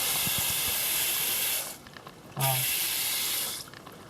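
Water running from a loose faucet in a garage, a loud steady hissing spray that stops briefly mid-clip, restarts with a knock, then drops away near the end.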